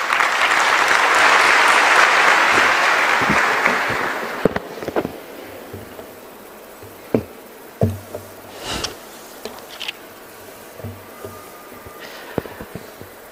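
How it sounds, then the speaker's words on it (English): A crowd bursts into dense applause for several seconds, then it thins out into scattered individual claps. "A huge round of applause."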